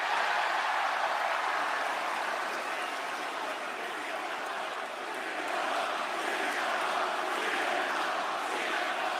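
A WWE SmackDown arena crowd cheers in one continuous, loud, dense roar that holds steady throughout, dipping only slightly midway.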